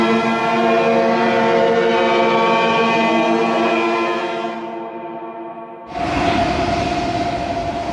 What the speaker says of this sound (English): with every ship's siren at full blast.